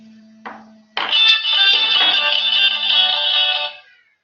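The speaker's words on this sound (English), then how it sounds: "That's some other student trying to phone me now." A mobile phone rings with an incoming call, a loud, close, bright electronic ringtone that starts after a short tone and tap and lasts about three seconds.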